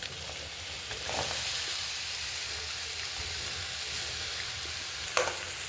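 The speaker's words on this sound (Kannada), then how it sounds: "ಇವಾಗ ಈರುಳ್ಳಿ ಫ್ರೈ ಆಗೋಕ್ಕೆ ಮಾತ್ರ ಸ್ವಲ್ಪ ಉಪ್ಪು ಹಾಕ್ಕೊಳ್ಳಿ" Onions sizzling and frying in a pan with a little salt, a steady soft hiss throughout with a brief stir or clatter near the end.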